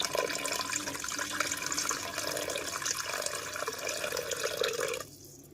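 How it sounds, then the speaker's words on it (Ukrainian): Boiling water is poured over chicken breast in a Tefal RK 815 multicooker, a continuous close splashing stream that cuts off sharply near the end. "А тепер доливаємо кип'яток, щоб наша вода доходила десь до середини курки."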